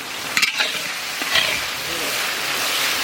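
Onions cooking in salt in a hot pan for a village-style mutton curry, giving a steady, close sizzle and hiss throughout with a few stirring scrapes near the start.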